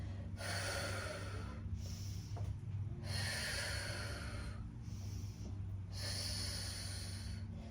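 Heavy, rhythmic breathing during a deep core workout, with three long forceful exhales through the nose and mouth at steady intervals, close and fairly quiet. No talking.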